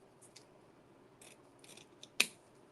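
Scissors snip through folded paper or card in a few soft, faint cuts, ending in one sharper close snip amid quiet.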